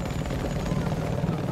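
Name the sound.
helicopter in the video game Battlefield 4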